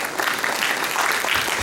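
An audience at a motivational speech bursts into clapping, a dense close patter of many hands that stays loud and steady for the whole short stretch.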